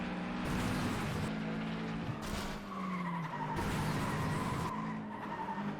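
Race cars in the FlatOut 2 video game skid and squeal their tires over a steady engine drone, with repeated loud screeching bursts close up and no talk.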